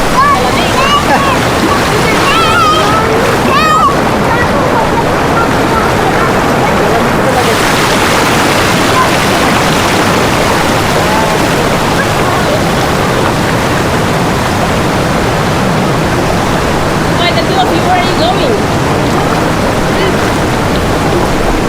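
Steady, broadband rushing of a cold river in the Hungduan, Ifugao rice terraces fills the scene, constant and fairly loud, with a few faint voices briefly audible in the background.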